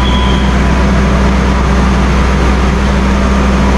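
A Jaya Baya economy passenger train stands idle while waiting for a crossing train, giving a loud, steady, unbroken low rumble and hum from inside the carriage.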